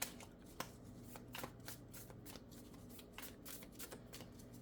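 Tarot cards being shuffled by hand, a run of crisp riffles and soft slaps of the deck, close and fairly quiet, with no voice over them.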